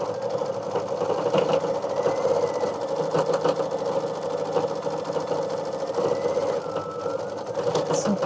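An embroidery machine stitches out a Kimberbell mug rug design, running with a fast, continuous mechanical whir and rapid needle ticking at a steady, close level throughout.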